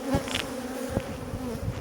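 Honeybees buzz close by near their hive, a steady droning hum with individual bees passing nearby, with no voices.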